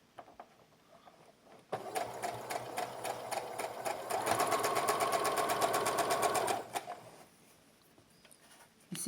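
A sewing machine stitches elastic onto cotton baby knickers in one continuous run with a rapid, close needle rattle that speeds up and grows louder midway before stopping.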